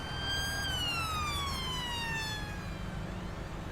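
A police car siren wails in Farming Simulator 19 on the Sandy Bay map, a loud, continuous falling tone over engine rumble with no talk.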